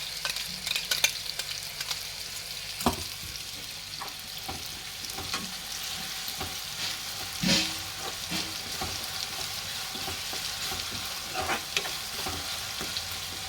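Masala with ginger garlic paste frying in a pan for a paneer and potato bhaji, a steady close sizzle with scattered scraping stirs and clinks throughout, no voices.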